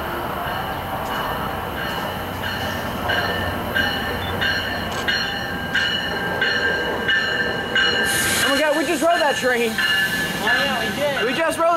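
A train on an Amtrak/MARC line rumbles past at close range with a steady rolling roar and clacking wheels, then high metallic wheel squeals rise toward the end while people talk faintly.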